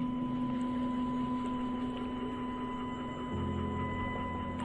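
Grizzly X2 CNC mill's X axis stepper drive whines steadily under a constant low mains-like hum, with a shift in tone partway through as the motion changes; no talking.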